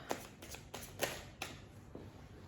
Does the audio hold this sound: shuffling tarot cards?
yes